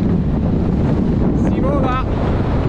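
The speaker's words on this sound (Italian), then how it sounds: "Vento maledetto" Strong wind on Monte Petrella in Italy buffets the microphone in a constant roaring rumble, with a brief voice heard faintly in the middle.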